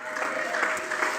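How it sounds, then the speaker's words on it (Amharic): A church congregation stands and claps together in worship, a dense, steady wash of many hands heard from a little distance throughout. "እስቲ ተነሱና ቁሙና ለእግዚአብሔር ክብር አጨብጭቡለት"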